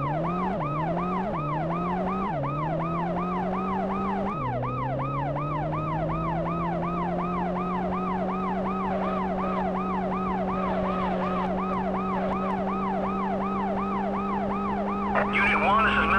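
An ambulance siren in the police-chase video game World's Scariest Police Chases wails continuously, with quick yelping sweeps giving way to a steady rising-and-falling wail, loud and close throughout.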